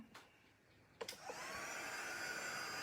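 An electric heat tool drying ink on a scrapbook layout switches on after a couple of light clicks and runs as a steady, close whirring blow through the rest of the clip, with no talk.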